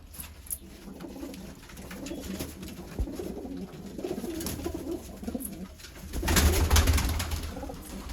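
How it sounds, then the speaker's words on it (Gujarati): Pigeons cooing close by in soft, repeated low coos, with light rustling and a brief louder flutter of activity toward the end. "આ એક કબૂતર છે"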